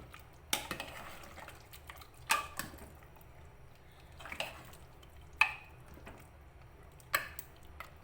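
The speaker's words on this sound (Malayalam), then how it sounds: "ഇനി ഇതിലേക്ക് 1 ടീസ്പൂൺ മീറ്റ് മസാല ചേർത്ത് കൊടുക്കാം. ഇതൊന്ന് ഇളക്കി കൊടുക്കാം." A spoon stirs meat masala into mutton in a cooking pan, giving a few sparse metallic clinks and scrapes against the pan at irregular intervals over a quiet background.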